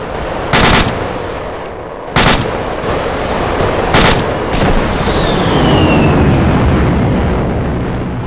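Gunfire in the military video game Arma rings out in four sharp, loud bursts, spaced a second or two apart, over a steady background rumble.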